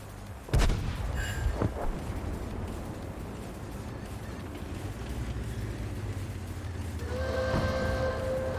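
A tank cannon in World of Tanks fires once with a loud, sharp blast, followed by a lower rumble and a second fainter report, with engine drone and a tonal hum rising near the end.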